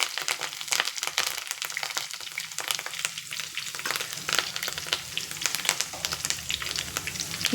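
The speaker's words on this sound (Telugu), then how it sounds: "తాలింపు బాగా వేగిపోయింది కదా" Mustard seeds, cumin and dried red chillies fry in hot oil for a tempering, crackling and popping in quick irregular bursts over a soft, continuous sizzle close by.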